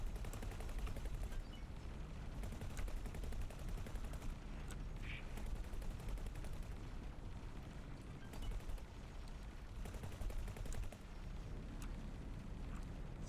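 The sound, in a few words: gunfire in the video game X4: Foundations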